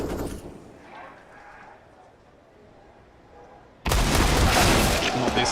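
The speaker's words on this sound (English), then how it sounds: "Sunpias has mowed down 2 with a 5-7, and now Spinks" Pistol fire from a Five-SeveN in a CS:GO esports match: a faint, muffled game soundscape with a few soft shots gives way to a sudden loud, dense burst of gunfire and explosive noise near the end.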